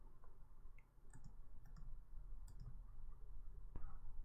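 Computer mouse clicks during After Effects text editing, a handful of faint, sharp, irregular clicks over quiet room noise.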